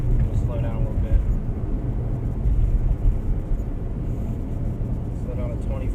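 Ford Mustang EcoBoost on its way onto the highway, a steady low engine drone and road rumble from inside the cabin, with someone talking over it.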